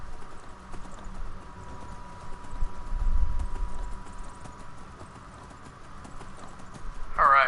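Hooves of a giant horse clip-clop in Skyrim, a steady rhythmic trot of hoof hits at moderate volume, with a voice talking over parts of it.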